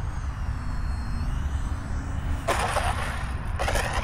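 An FMS F-35 64mm EDF model jet on landing approach gives a steady, loud, whooshing fan roar with a rushing buzzy edge that swells partway through, heard outdoors with constant wind noise.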